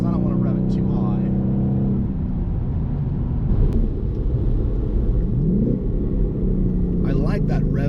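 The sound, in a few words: 2019 Ford Mustang GT engine revving while short shifting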